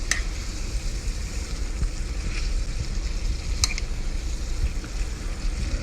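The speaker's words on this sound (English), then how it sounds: "now that our green olives have gotten a quick sear" Green olives sear in a hot pan with a chicken mixture, giving a steady close sizzle and crackle, with occasional sharp spatters and scrapes of stirring.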